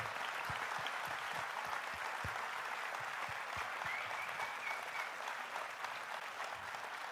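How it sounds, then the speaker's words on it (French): A large audience at a political party congress round-table on schools gives sustained, thunderous applause, a dense continuous wash of clapping with some sharper claps standing out, heard alone for over seven seconds. "Un tonnerre d'applaudissements, s'il vous plaît."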